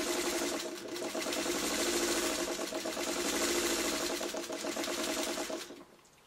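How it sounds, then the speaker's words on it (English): A sewing machine runs steadily for about six seconds, joining traditional quilt blocks, a close, continuous mechanical whir and rapid needle chatter that slows and stops at the end, with no talk. "So now we're going to sew these so that they go together like"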